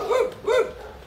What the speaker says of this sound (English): they're barking at her and wagging her tail at me.